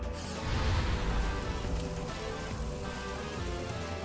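Rain weather ambience in the video game Coromon, a dense, steady hiss of falling rain with a low rumbling swell near the start, loud and continuous without voices.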